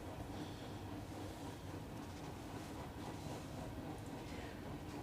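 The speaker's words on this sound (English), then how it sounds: "Train! Train! There's a train. There is a train." A train rumbles past at a distance, a soft continuous roar with faint rattling, low in level and steady throughout.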